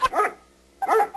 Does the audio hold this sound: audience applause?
no